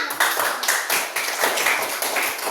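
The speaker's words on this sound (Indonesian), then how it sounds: "tepuk tangan dulu buat anak guru semua" A group of schoolchildren in a classroom claps rapidly and unevenly, a dense patter of close handclaps lasting a few seconds.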